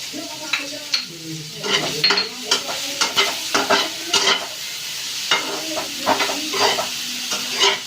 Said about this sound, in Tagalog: Lagay na natin ang sibuyas. And bawang.